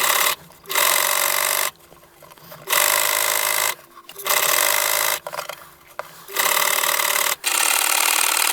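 A sewing machine stitches a hood onto a bush shirt made from a wool blanket, running in five loud bursts of steady buzzing, each a second or so long, separated by short pauses.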